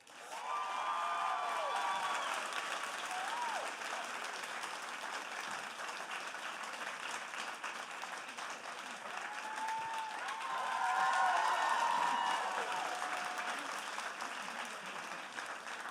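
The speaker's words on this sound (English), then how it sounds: "Would you please give a huge round of applause to Mamta?" An audience at a research-presentation competition applauds a winner, sustained moderate clapping with scattered cheers and whistles, swelling again toward the end.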